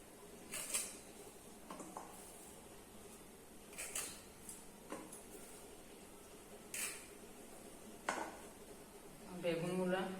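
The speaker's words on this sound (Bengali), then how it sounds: "তার জন্য আমি সজনা ডাঁটাগুলো লম্বা লম্বা ভাবে কেটে নিচ্ছি।" A knife slices drumstick (moringa) stems lengthwise in a home kitchen, giving sparse, separate cutting knocks and clicks at irregular intervals, fairly faint and close, with some soft handling noise toward the end.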